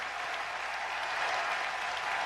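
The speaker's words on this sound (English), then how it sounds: "please give us a big, very ginormous, divine feminine round of applause for Dr." An audience at a live radio event bursts into dense, sustained applause, many hands clapping steadily and fairly loud with no breaks, welcoming a guest speaker.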